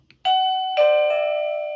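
An OhmKat doorbell chime wired to a SimpliSafe video doorbell rings loud and close, with a bright struck tone followed by two more overlapping bell notes that ring on and slowly fade, with no voices.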